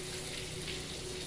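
Onions fry in melted butter with a constant, fairly quiet bubbling sizzle that stays even throughout, and nobody speaks.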